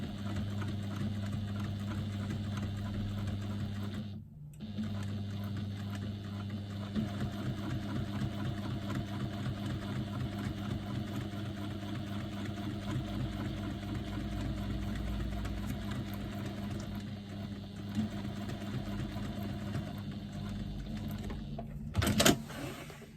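A sewing machine stitches faux leather and fabric under foot-pedal control, a steady mid-level mechanical hum with rapid needle rhythm running almost continuously, pausing briefly once and ending with a short clunk.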